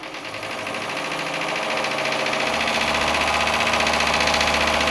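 A small live-steam model boat engine chuffs and clatters in a rapid rhythmic beat, speeding up and growing louder over a few seconds, heard up close during a bathtub test.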